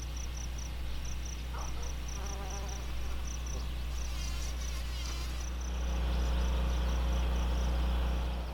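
Honeybees buzzing around garden flowers, a steady insect drone with a constant low hum underneath, close and continuous at moderate level.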